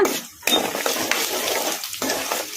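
Urad dal, chana dal and peanuts stirred in a frying pan, with a spoon scraping and clinking against the metal in uneven strokes over a soft sizzle.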